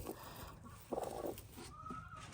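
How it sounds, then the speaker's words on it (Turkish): Brief clucking from a nearby chicken running loose in a village, a few short calls over a low background rustle. "tavuk kaçıyor arkadaşlar."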